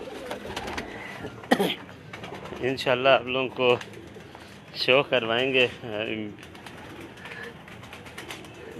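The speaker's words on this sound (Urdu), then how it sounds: "یہ 35 والا کبوتر ہے" Ali wala pigeons kept at a home in Sialkot coo in two bursts of soft repeated throaty calls, close by, with someone talking before, between and after them.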